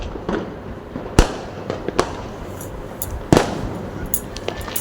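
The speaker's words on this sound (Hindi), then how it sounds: "ये पटाखे की आवाज़ें भी आ रही थी।" Diwali firecrackers burst on a neighbouring rooftop: scattered sharp bangs and pops at varying distances, two louder cracks standing out, with fainter crackling between them.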